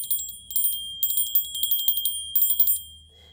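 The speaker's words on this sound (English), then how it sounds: "I'm going to ring some bells" Small bells ring in several quick bursts of clear, high, sustained tones, with short pauses between bursts, close and fairly loud and no talking.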